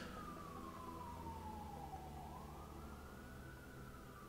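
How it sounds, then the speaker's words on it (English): A police car siren wails outside in Aurora, faint and distant, its tone sliding slowly down and then rising again over a low background hum. "Yes, that's a cop siren outside."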